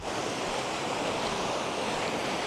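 Broad, steady wash of sea waves and surf, loud and close, with some wind noise and no voices.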